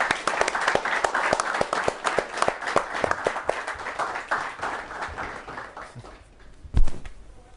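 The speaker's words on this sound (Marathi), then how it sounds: "आपण अतुलसाठी सुद्धा टाळ्या वाजवतो." Audience applause at a televised special show on drought relief work, a crowd clapping steadily and loudly throughout, with a single sharp thump near the end.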